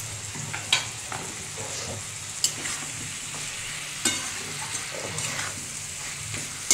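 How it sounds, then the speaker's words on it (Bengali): Potatoes fried with spices in a pan, sizzling steadily while being stirred, with a few sharp scrapes and clicks of the spoon against the pan. "এবার এটা ভালো করে কষাবো যতক্ষণ না মশলা থেকে তেলটা বেরোয়"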